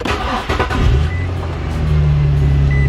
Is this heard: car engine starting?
yes